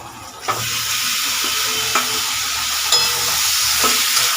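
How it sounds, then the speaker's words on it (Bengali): Fried chicken pieces drop into masala that is already cooking down in oil. The steady sizzle and frying hiss runs throughout, broken by a few sharp clinks and stirring bumps from a utensil against the pan. "এবার আমি ভেজে রাখা চিকেনের পিসগুলো দিয়ে দেবো"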